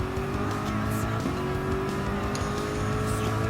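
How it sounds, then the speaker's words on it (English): Corvette C7 Group 3 race car in Gran Turismo 7 warming up at D-Force Raceway, its engine droning steadily and loudly throughout with a constant low rumble and faint tire noise. "here comes the Corvette C7 Group 3 enters onto D-Force Raceway to do some warm-up"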